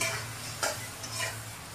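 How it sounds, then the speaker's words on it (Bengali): Chopped onions fry in a kadai while being stirred, a soft steady sizzle with a couple of brief scraping strokes of a spoon against the pan, with no talking. "এবার আমি পেঁয়াজটাকে ভেজে নেব ভালো করে"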